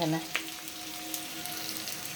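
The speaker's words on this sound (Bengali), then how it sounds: "এবার লাল করে ভাজতে হবে এটাকে আলুর সাথে।" Onion and potato frying together in a pan gives a steady, close sizzling hiss, with a brief clatter at the start and no talking.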